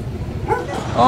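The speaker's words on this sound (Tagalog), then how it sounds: "Laki ng aso. Hindi nakatali." A large unleashed dog barking near a gate by a street, a short bark or yip heard under a voice speaking close by.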